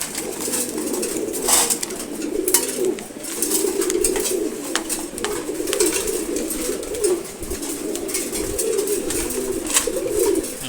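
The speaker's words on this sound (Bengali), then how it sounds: "অনেক ধরনের কবুতরই আছে এখানে" Pigeons of several breeds, including racers and red checkers, coo steadily in a loft, with a continuous low throaty burbling from many birds at once, close and moderately loud, and occasional light clicks and wing rustles.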